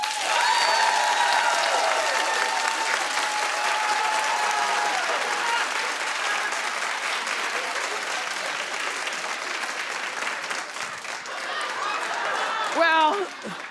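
A studio audience on a talk show applauds loudly and steadily, the dense clapping fading a little over time, with a voice speaking over it near the end.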